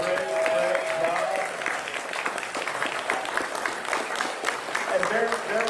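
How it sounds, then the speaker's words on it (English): A crowd at a Democratic primary candidate forum gives a round of applause for Jeff Kaufman, moderate steady clapping from a modest audience that continues evenly for several seconds. "a round of applause for Jeff Kaufman"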